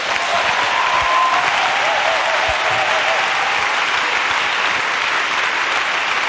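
A church congregation applauding together in loud, steady, dense clapping that fills the whole stretch, with faint voices mixed in beneath.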